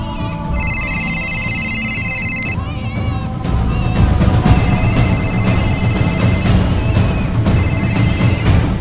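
A home telephone rings in a Hindi drama, its bright bell trilling in three separate bursts over low background room noise and movement.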